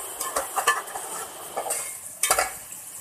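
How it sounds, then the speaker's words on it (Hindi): Cumin seeds, salt and black pepper are stirred and roasted in a hot pan for a mutton korma, bursts of scraping and light sizzling in short irregular strokes, close and fairly loud. "इसको मिक्स करके 1 मिनट तक मसालों को भून लेंगे।"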